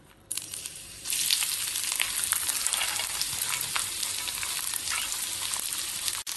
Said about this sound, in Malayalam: എണ്ണ ചൂടാവുമ്പം ഇതിലേക്ക് വലിപ്പം കുറഞ്ഞ ഒരു സവാള മുറിച്ചതും ഒരു നാലഞ്ച് അണ്ടിപ്പരിപ്പ് രണ്ടായി പിളർന്നതും ഇട്ട് കൊടുക്കാം.